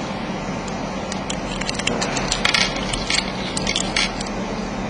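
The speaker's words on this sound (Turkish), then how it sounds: "Bir yandan kuvars kumu dökümüne başladı." Quartz sand pours out of an opened NH fuse, a fine granular patter of tiny ticks and grains that swells in the middle and then fades, heard close over a low steady background hum.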